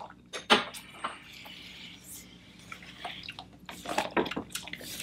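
Black Box six-year-old whiskey pours from the tap of a boxed container: a faint trickle and a few drips, with small clicks and handling knocks scattered across the pour.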